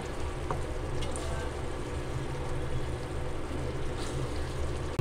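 Hilsa fish dopeyaja curry sprinkled with cumin powder is stirred in a pan, giving a steady, soft frying sizzle with a low bubbling hiss throughout.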